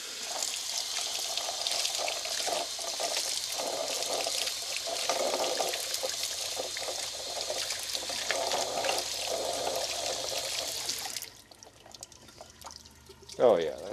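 Running water rinsing an etched Damascus steel coffin-style dagger, a steady splashing tap stream that cuts off abruptly near the end, followed by a brief clunk.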